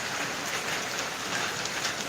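A brief, even spell of rain hitting an asphalt road in Kerala, a close, uniform hiss of falling drops with no voices.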